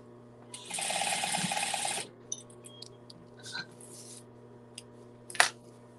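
A sewing machine stitches a dart closed on a handmade memory bear: one fast mechanical whir lasting about a second, followed by small clicks and taps of fabric handling in a quiet room.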